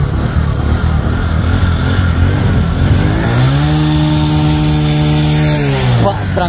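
A motor engine is revved hard, a loud rising roar with a sustained high-pitched whine in the later half and faint voices underneath.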